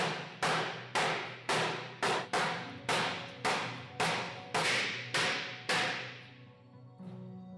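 Hammer blows ring out on wooden barrel hoops, about a dozen sharp metallic strikes at a steady pace, each decaying before the next, then quiet.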